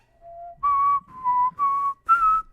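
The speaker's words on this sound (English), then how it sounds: "Whistling into a microphone" A single person whistles into a microphone, close and clear, in four short melodic phrases after a softer opening note, with no talking.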